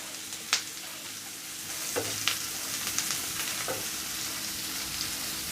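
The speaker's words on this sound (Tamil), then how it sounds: "இப்போ வெங்காயம் பொன்னிறமாக வறுந்து வரட்டும்." Sliced onion and curry leaves fry softly in a pan for a prawn pepper fry, with a faint steady sizzle broken by a few quick scrapes and clicks of stirring.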